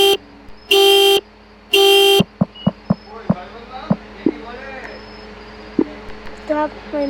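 A car alarm blares in two loud sustained bursts, then breaks into a rapid series of sharp chirping pulses and warbling tones, close and loud against a quiet background.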